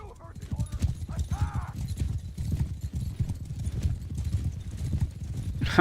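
Horse hooves clip-clopping at a gallop in the video game Bannerlord 2, a rapid rhythmic thudding under game ambience, with a brief whinny-like sound and busy mid-level background noise.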